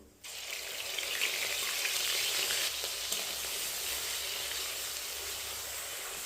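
Ground onion paste hits hot oil with cinnamon and cardamom, giving a sudden burst of sizzling that then holds as a steady, quiet hiss.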